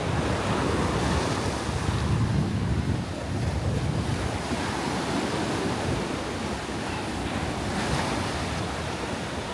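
Waves breaking and washing up on a beach at Mui Ne, Vietnam, a continuous roar of surf mixed with gusting wind buffeting the microphone, with no talking.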